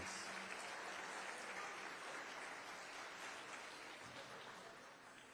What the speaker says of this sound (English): let's give her a round of applause for this commitment that she has